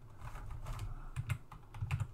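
Bursts of typing on a computer keyboard, quick irregular clusters of key clicks heard fairly close, with no one talking.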